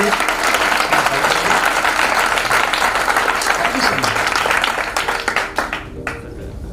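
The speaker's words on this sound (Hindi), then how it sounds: "जबरदस्त ताली होनी चाहिए" At a Seyago success training event, a large audience claps loudly and continuously, then the sound tapers into scattered claps at the end.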